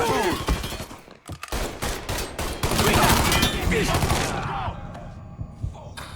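Heavy gunfire rattles through a shootout in the Mafia 3 video game, with rapid bursts and single loud shots close by, while voices shout over the fighting before the shots thin out toward the end.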